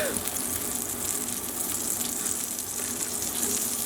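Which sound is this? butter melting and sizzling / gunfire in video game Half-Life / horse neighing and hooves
butter melting and sizzling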